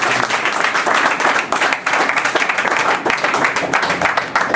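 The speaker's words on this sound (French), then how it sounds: "Acclamons une fois de plus pour la gloire de notre Dieu" Church congregation applauding together in worship, a dense, loud, continuous burst of clapping from many hands that holds steady throughout with no break.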